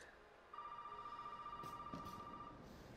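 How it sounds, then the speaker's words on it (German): A telephone rings in the survival horror game Resident Evil 7, a steady electronic ringing tone that starts after a moment and holds, faint and alone against a quiet background. "Wo klingelt es? Achso, am Telefon."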